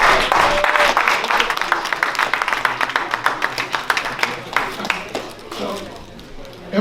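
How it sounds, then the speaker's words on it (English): Concert audience at an MLK tribute jazz performance applauding loudly, the clapping thinning into scattered claps as a voice talks over it. "give them a big round of applause"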